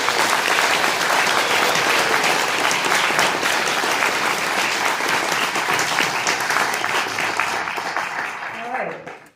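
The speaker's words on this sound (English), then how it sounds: "if we could give all the candidates a round of applause" Loud, sustained audience applause for mayoral candidates at a neighborhood coalition candidates forum, dense clapping filling the room for about nine seconds before tapering off near the end.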